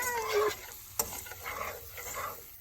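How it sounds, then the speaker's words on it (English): Grease and flour being stirred and dragged in a pan for a roux, with a soft sizzle and scraping strokes near the pan and a sharp clink partway through, and nobody talking. "And this is making a roux"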